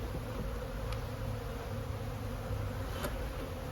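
Honey bees hum in a dense, steady buzz around an open beehive with bees covering nine frames, the drone continuous and close, with no talking.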